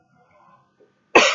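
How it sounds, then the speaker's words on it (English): A single sharp, close cough bursts out loudly after near silence, with a faint murmur just before it. "I've had this cough that's really been annoying me for like the longest time"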